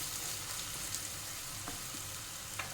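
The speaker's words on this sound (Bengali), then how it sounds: "টমেটোটা দিয়েও ভালো করে একটু কষিয়ে নিতে হবে যাতে টমেটোটা সেদ্ধ হয়ে যায়" Tomato sautéing in a pan for palak paneer, a soft, even sizzle that holds steady throughout with a few faint ticks and crackles, quiet and close with no talk.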